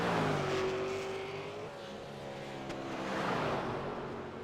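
A V8 Supercar at speed during Bathurst qualifying, its engine note rising and falling through the corners, with a brief dip as the driver brakes, loud and steady throughout.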